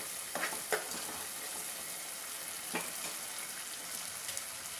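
Ginger garlic paste and tomatoes fry in a pan for egg curry, giving a soft, even sizzle with a few light spoon taps near the start and once midway, fairly quiet and without talk.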